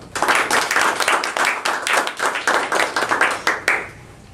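An audience claps to welcome a speaker at a speech-evaluation meeting. The applause is dense and moderately loud, runs about four seconds, and tapers off at the end.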